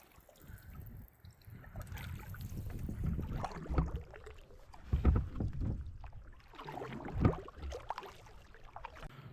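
A small boat paddled on a greenish lake in the Oregon Cascades, soft rhythmic splashes and dips of the paddle with water gurgling against the hull, close and fairly quiet.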